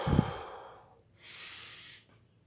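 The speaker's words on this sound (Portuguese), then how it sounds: "faz a respiração, 30 respirações de 3, 3, 3" Breath drawn in sharply, a pause, then a long airy exhale, part of a paced breathing exercise of inhaling, holding for a count of three and releasing; close and clear, with no talking.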